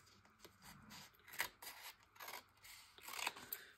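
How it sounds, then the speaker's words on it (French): Scissors snip through a photographic slide for a collage, several short crisp cuts with faint rubbing in between, close and quiet, with no talking. "Alors, je vais essayer de découper comme ça."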